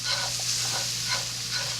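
Garlic cooking fast in a pan for a homemade chicken Alfredo lasagna sauce, giving a steady close sizzle and fry with occasional stirring scrapes over a low hum, no talking.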